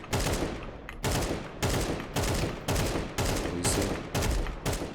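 A rifle in the video game Counter-Strike 2 fires about seven short, sharp bursts in an even rhythm. The shots are close and loud, with only a brief spoken remark.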